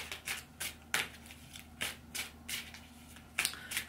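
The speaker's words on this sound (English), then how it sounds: "First sensation I get as I'm shuffling the cards" Playing cards being shuffled repeatedly for a tarot-style reading, with quick riffling bursts in a steady rhythm, close and crisp.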